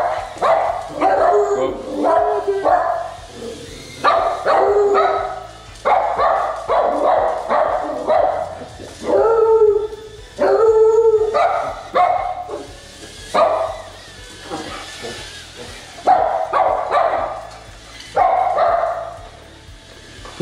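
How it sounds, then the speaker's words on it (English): Several dogs bark and yip in repeated loud bursts as they chase a small toy drone up and down an indoor hallway, with someone talking between the outbursts. "So the dogs love chasing. I'm just running them up and down the hallway. You can see how loud they are,"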